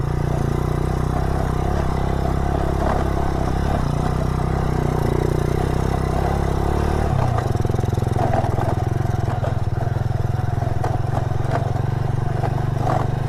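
A motorcycle rides a steep, rough road toward a hidden beach, its engine droning loud and close throughout with rattling and scraping from the bumpy track and a shift in engine note midway.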